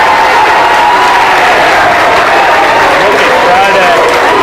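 Home crowd at a Douglas Freeman boys high school basketball game against Glen Allen cheers and applauds steadily in a loud gym, with voices mixed into the continuous roar.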